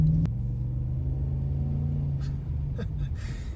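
A Holden VN Calais with a 5.0-litre V8 idles with a deep, steady low rumble close by, holding an even burble throughout, while a voice speaks briefly over it near the end.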